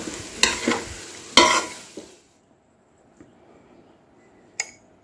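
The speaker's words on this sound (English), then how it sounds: "Mix it up nicely." A spoon stirs a cooked vegetable mixture for Kerala banana peel vathal in a pan, giving two or three scraping, sizzling strokes up close, then near quiet with one last faint clink.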